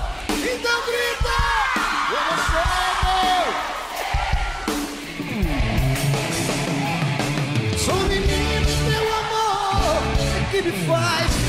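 A concert crowd at a show yells and cheers loudly, blending with music and sung voices in a full, continuous roar.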